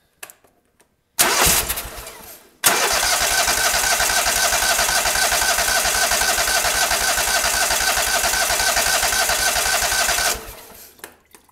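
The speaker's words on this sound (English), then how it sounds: "turn over the engine and see if the pump is actually pumping fuel out" A small Kohler V-twin engine cranks over steadily with a fast, rhythmic chugging for several seconds, loud and close, after a brief first attempt.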